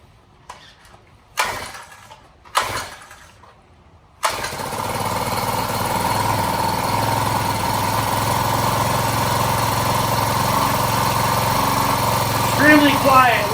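New Honda HHT35S string trimmer: two short pull-cord bursts, then the small four-stroke engine catches and settles into a steady, fairly quiet close-up idle that carries on to the end.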